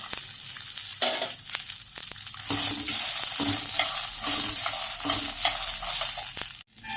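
Ingredients frying in a little oil in a pan for matar kachori, a steady close sizzle with scraping stir strokes throughout, ending abruptly.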